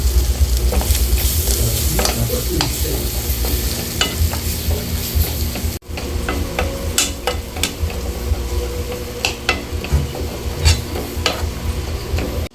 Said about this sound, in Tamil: இதை அப்படியே ஃப்ரை ஆகட்டும் கருவேப்பிலை போட்டுக்கலாம்